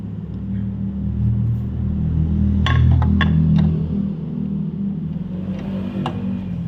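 A 2012 Honda Wave 110i motorcycle engine, just fitted with a new timing chain, runs with a steady low rumble and a few sharp mechanical clicks partway through, close by with no voices.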